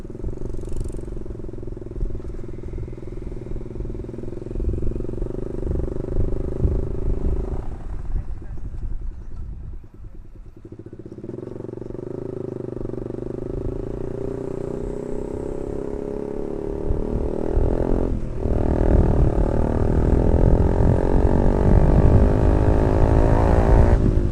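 A Yamaha R15 V2 motorcycle fitted with an SC Project exhaust runs along a road, its engine droning loud and steady, revs dipping and rising, with traffic around and a voice over the ride.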